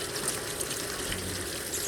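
A seafood boil box ring sprays water into a crawfish, snow crab and mussel boil, a steady close hissing rush of water that runs unbroken throughout.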